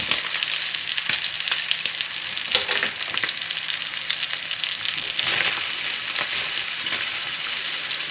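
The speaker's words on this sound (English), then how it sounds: "Now we're going to go ahead and fry this a little bit more." Food with seasonings fries steadily in a pan, a dense, close crackling sizzle with occasional stirring scrapes and pops, no voices over it.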